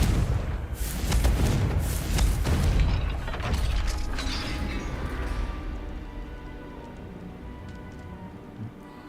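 The Confringo fire spell blasts a gate in Hogwarts Legacy, giving a loud burst of booming, crackling impacts that roll on for a few seconds and then fade into a quieter rumbling tail.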